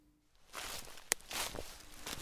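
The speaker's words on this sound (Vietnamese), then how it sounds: "Tam quỷ đương căng tai theo dõi tiếng bước chân lạo xạo dưới lá khô." Footsteps crunching over dry leaves, a few uneven rustling steps at close range with one sharp snap in the middle, quiet and alone without talk.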